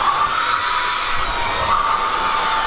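A Xiaomi Mi Handheld Vacuum Cleaner 1C runs steadily on a couch with a high-pitched motor whine and rushing airflow, loud and close, with no pauses.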